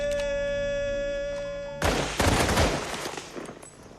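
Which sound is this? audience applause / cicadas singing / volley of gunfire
volley of gunfire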